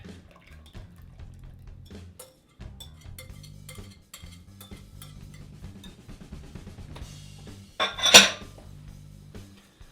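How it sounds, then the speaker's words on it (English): Wet and dry pancake batter for chocolate peanut butter pancakes is mixed in a bowl, soft clinking and scraping of a whisk against the bowl, with one sharper metallic clatter near the end. "And we're going to mix this in, our wet to our dry."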